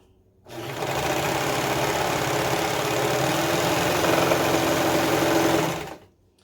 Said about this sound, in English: let me just run that through the serger really quick and make that correction